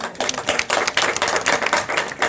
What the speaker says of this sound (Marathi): जरा टाळ्या होऊ दे.